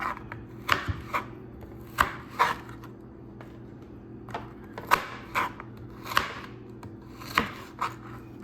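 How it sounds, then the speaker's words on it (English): Knife chopping small okra into many pieces on a cutting board while preparing Jamaican salt fish with okra and tomatoes; repeated sharp, close chops come in uneven bursts over a low steady background hum. "So I'm going to continue cutting up the okra."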